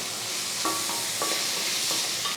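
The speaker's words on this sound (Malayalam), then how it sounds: "എണ്ണയൊന്ന് ചൂടാകുമ്പം മീഡിയം സൈസിലെ 2 സവാള ചെറുതായിട്ട് അരിഞ്ഞതും 2 പച്ചമുളക് വട്ടത്തിലരിഞ്ഞതും കൂടി ഇട്ട് കൊടുക്കാം." Chopped onions and sliced green chillies sauté in hot oil, a steady bright sizzle with a few short scraping stirs of the pan, close and continuous with no talking.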